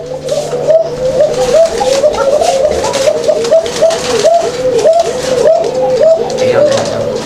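Several fancy pigeons cooing steadily at a small farm, repeated rolling coos from a few birds overlapping close by, with someone talking over them.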